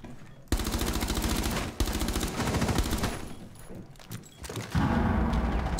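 Rapid automatic gunfire from the video game Rainbow Six Siege, loud sustained bursts of rattling shots with brief gaps, one pause near the middle and a renewed heavy burst at the end.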